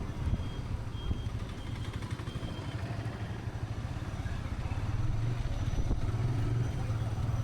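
Engine of a 2025 TVS Apache RTR 160 2V motorcycle while the throttle is opened. A continuous low drone of engine and road noise swells slightly toward the end, heard close and steady with no clear voices.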